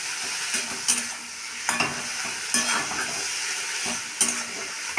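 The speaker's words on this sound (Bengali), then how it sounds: "এইভাবে নাড়াচাড়া নাড়তে শাকটা আমার হয়ে গেল" Salted leafy greens (saag) cook in a pan while a spatula stirs them, making rhythmic close scrapes roughly every second over a continuous loud sizzle.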